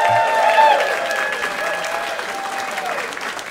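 A theatre audience at a live comedy podcast recording applauds loudly and steadily, the broad wash of clapping filling the room. A faint voice or tone sits above the clapping.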